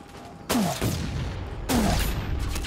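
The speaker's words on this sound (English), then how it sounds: "I'm shooting someone in the back right now and hitting them." Two bursts of gunfire from the Dust 514 shooter game, each a sharp loud onset followed by a sustained rattle of shots, the second starting about a second after the first.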